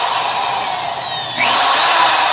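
A corded hand drill runs in reverse with a loud, steady motor whine that briefly dips and then rises in pitch as the speed picks up, with no voices present.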